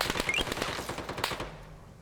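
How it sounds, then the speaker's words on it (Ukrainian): Rapid automatic bursts of machine-gun fire in the video game Arma 3, a fast rattling string of close, loud shots that stops abruptly and leaves a short fading tail. "По нам працює кулемет."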